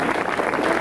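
Concert audience applauding during a November 1994 show as band members are introduced, a steady dense wash of clapping and crowd noise throughout, loud and continuous with no clear breaks.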